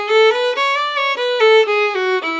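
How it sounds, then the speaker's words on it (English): A fiddle plays a short melodic phrase in D Lydian with a raised fourth, bowed notes moving stepwise in a steady flowing rhythm, close and clear with no talking. "Lydian mode, which sounds like this"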